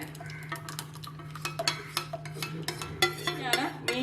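Custard mix, made with cornflour, is poured into a pan of sugar-dissolved milk and stirred, producing irregular spoon scrapes and clinks against the pan over a low steady hum.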